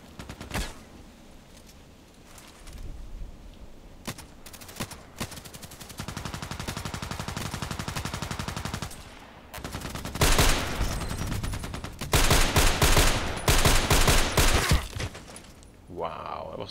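Video game gunfire rattles out in repeated automatic bursts, loud and close, with short single shots between longer sustained volleys and a player talking over parts of it.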